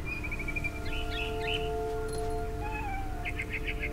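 A cat meowing in the video game What Remains of Edith Finch, a few short, clear, moderately faint cries over a steady low ambient hum, with no talk.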